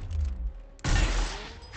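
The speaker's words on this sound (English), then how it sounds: "I guess just shoot him." Gunfire from shooting an enemy in the video game Gears Tactics, a sudden loud burst of shots that starts partway through and keeps rumbling, after a quieter low stretch at the start.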